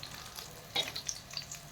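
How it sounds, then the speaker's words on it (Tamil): Eggplant frying in hot oil for kuzhambu, a close, steady sizzle with soft crackles and a brief stir-like rustle midway. "எண்ணெயிலேயே நல்லா ஃப்ரை பண்ணி எடுத்துக்கணும்."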